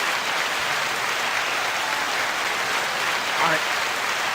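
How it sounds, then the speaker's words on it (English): Audience applause, a dense continuous wash of clapping filling the whole short stretch at an even level, with no clear break or distinct voice standing out. "The one and only FD Signifier, 9-second applause."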